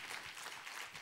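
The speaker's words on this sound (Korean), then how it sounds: "우리 하나님께 감사와 영광의 박수 올려드리겠습니다" A brief burst of group clapping, steady and fairly faint, as from a church congregation applauding together during a worship service.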